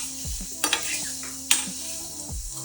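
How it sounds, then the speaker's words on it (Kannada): Mushrooms fry in a pan with a moderate sizzle under a few sharp scrapes and clanks of a spoon stirring against the metal, the stirring coming in short bursts; no talking. "ಈಗ ಸ್ವಲ್ಪ ಫ್ರೈ ಮಾಡಬೇಕು"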